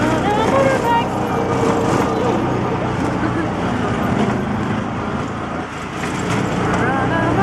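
A motor taxi rides through Oaxaca traffic, its steady engine and road rumble filling the air with passing vehicles nearby, while people talk over it.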